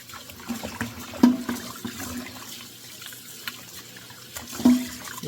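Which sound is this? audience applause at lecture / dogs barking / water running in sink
water running in sink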